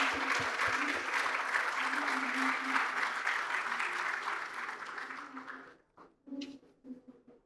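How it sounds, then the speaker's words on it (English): Steady, dense applause from a conference hall audience at a Japan country session of an investors' meet, filling the room for nearly six seconds before dropping off to a few stray claps and brief murmurs. "everybody please give a big applause to them."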